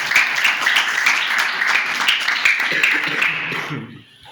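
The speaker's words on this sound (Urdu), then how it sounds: "یسوع کی محبت کے لیے زوردار تالیاں بجائیں." A church congregation at an Advent Sunday service breaks into loud, sustained applause and cheering, a dense wash of clapping that holds steady for several seconds before tapering off at the end.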